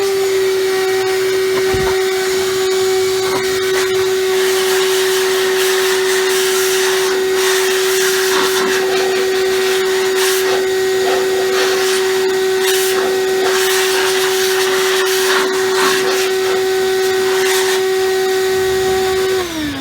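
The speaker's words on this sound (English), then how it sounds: "My vacuum's a little noisy, so you kind of have to forgive me on that" A vacuum cleaner runs steadily throughout while cleaning out a Sole treadmill, a loud continuous motor whine with a strong sustained tone and broadband rushing noise, close by and uninterrupted.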